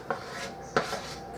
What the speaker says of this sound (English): And then I'm going to toss the meat in there.